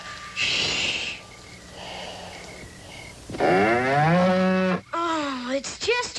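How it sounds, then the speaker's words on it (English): A cow at a nighttime campsite in a 1959 television episode lets out several deep, drawn-out moos and snorting breaths, close and clear, with a faint steady hum in the background. "Oh, it's just your cow."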